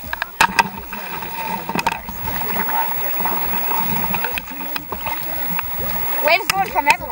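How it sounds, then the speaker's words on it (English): Ocean waves in Maui wash and splash continuously close by, with a steady churning of water, occasional sharper slaps and voices over the surf. "Waves going from everywhere."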